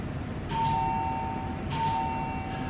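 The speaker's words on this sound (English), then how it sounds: "So that was the doorbell" A hotel room doorbell in a Bangkok quarantine hotel chimes twice, two clear electronic ding-dong tones about a second apart, ringing close over a low background hum with no talking.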